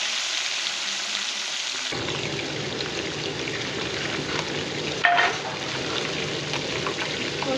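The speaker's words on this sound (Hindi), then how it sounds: "अब आराम आराम से मैं इसमें फ़िश डालूँगी। दो पीसेस करके फ्राई कर रही हूँ।" Two pieces of masala fish for a Lahori fish fry go into hot oil, and after a quiet moment a loud, steady sizzle bursts in and continues close by, with one sharp clink partway through.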